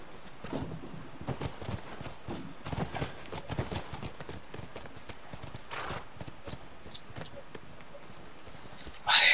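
Hoofbeats of horses in The Last of Us remastered video game, a steady uneven clip-clop of several hooves close by over a muted game background, with a short louder burst at the very end.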